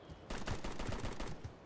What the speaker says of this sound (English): I hear advanced units, gunshots.